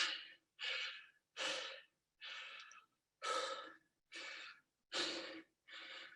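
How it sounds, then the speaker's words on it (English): Heavy breathing after a workout: eight strong, evenly spaced breaths, close and loud, each a rough rushing puff separated by short silences, with no talk. "That was my first time doing any heavy breathing in a couple weeks."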